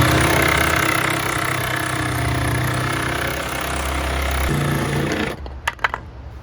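A jigsaw with a Diablo high-carbon steel T-shank blade cuts with a steady, loud, close buzzing that stops abruptly near the end, followed by a few light clicks.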